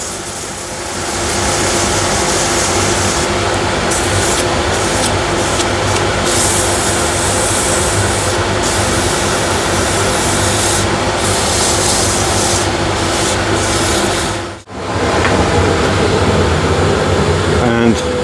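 Wood blank sanded on a lathe with 180 grit sandpaper under a light touch, a steady continuous rubbing hiss running throughout over a constant machine hum, with a brief drop near the end.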